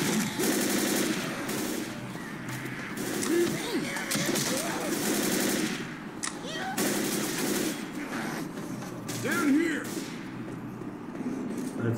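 Rapid bursts of gunfire from the video game Left 4 Dead crackle repeatedly in clusters, mixed with game noise and someone talking over the action.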